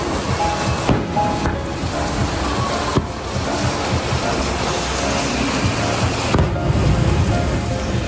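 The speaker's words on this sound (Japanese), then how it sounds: "大雨の中、 花火が上がってます。" Fireworks at Suwa burst in a few dull, scattered booms through a steady roar of heavy rain, with thunder about.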